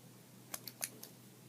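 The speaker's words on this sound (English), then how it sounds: "I'm cutting both sides out, and then I'm going to snip away" Scissors snipping paper to cut out an origami frog puppet: four quick, faint snips close by in an otherwise quiet room.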